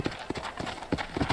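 Horse hooves clip-clopping in the Western video game Red Dead Redemption, a steady rhythmic run of about six close, even strikes with no talk over them.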